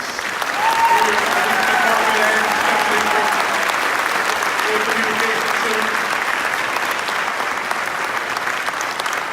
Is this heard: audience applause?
yes